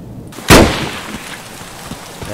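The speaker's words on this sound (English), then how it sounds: "That sounds like a sniper scout." A single sharp sniper rifle shot in the Escape From Tarkov video game cracks loudly and close, then rolls off into a long fading echo over quiet game ambience.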